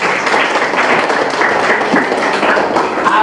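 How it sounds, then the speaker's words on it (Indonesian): Classroom audience clapping together after a teacher's prompt, a dense, steady burst of hand claps close by for a few seconds, with no one speaking. "Benar sekali, tepuk tangan semua."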